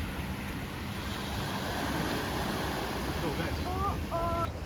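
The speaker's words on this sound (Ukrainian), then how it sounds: "ми вирішили орендувати моторного човна" Steady wash of sea waves and wind buffeting the microphone aboard a motor boat off Corfu, with a low engine drone underneath and a few brief tonal chirps near the end.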